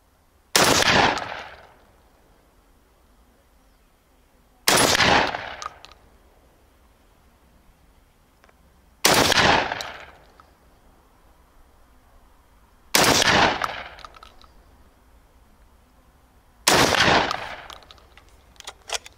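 Five loud, sharp shotgun blasts from a Serengeti Legion 120 firing speed slugs, each evenly spaced about four seconds apart with a short echoing decay, close and alone with no talk.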